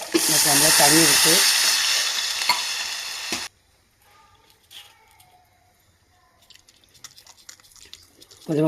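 Water goes into a hot pan of tempering mustard seeds, dried chillies and chana dal while cooking ragi flour, a loud burst of sizzling and stirring that cuts off abruptly into quiet bubbling and faint clinks.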